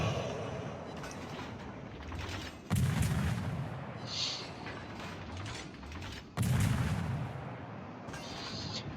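Naval gunfire in World of Warships, heard from the European destroyer Skane: two heavy booming salvos some seconds apart over constant game engine and ocean rumble, with lighter mechanical clatter in between.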